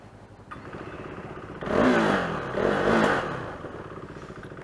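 A KTM RC 390 motorcycle engine revs in two swelling bursts over a steady idle, fairly close and loud, with no talking.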